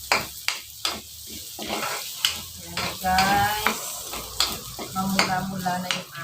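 Onions sauté in a pan, a steady sizzle broken by repeated scraping stirs and clinks of a utensil against the pan, heard close.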